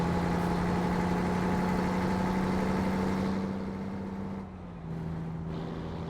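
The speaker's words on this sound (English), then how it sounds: "Listen to that engine just pull it right up the hill." A heavy truck engine in American Truck Simulator drones steadily at a low pitch as it pulls uphill, then its tone dips and drops in level before settling again.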